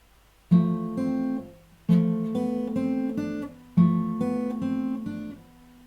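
Fingerstyle acoustic guitar plays a short phrase of a Final Fantasy X song as three clear plucked figures, each opening on a bass note followed by a few ringing melody notes, played alone at moderate volume.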